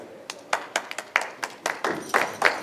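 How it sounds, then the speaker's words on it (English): Scattered claps from a small group, irregular bursts rather than a full sustained ovation, fairly close and clear. "you can hold your applause"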